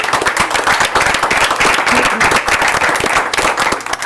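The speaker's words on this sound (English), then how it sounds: "Let's give them a round of applause." Dense applause from a school board meeting audience welcoming two student leaders from Riviera Elementary School, steady clapping sustained for about four seconds with a faint voice underneath.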